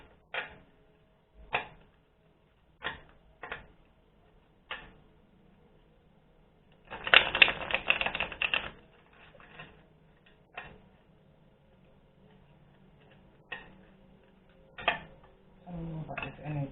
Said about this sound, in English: I'm going to have to press pause and tap my cards in my upright